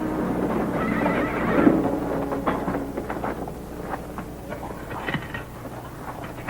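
Horses whinny and hooves clip-clop in a classic American war western, with a neigh up close followed by a steady patter of hoofbeats under a low rumble.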